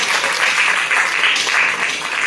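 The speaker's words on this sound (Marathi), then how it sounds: "त्यामुळे टाळ्या जरा जास्त झाल्या पाहिजे." An audience claps loudly and steadily at a Marathi stage programme, a dense, sustained round of applause with no talking over it.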